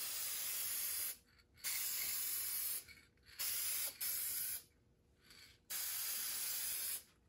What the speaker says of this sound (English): And finally, a sealant to make sure everything stays in place.